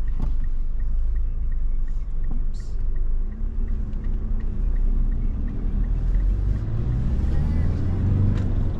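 Low, steady rumble of traffic on a main road, with vehicles passing close by and a broad engine drone that thickens toward the end, and a brief voice near the start.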